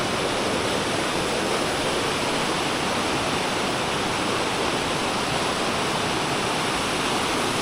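A river runs over rocks past rubber plantations and rice fields near an old village in South Tapanuli, making a loud, steady, broadband rush with no break. No voices are heard.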